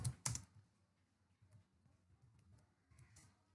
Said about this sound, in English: Here I type form name equals